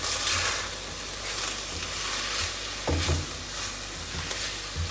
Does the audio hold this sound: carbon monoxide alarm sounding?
no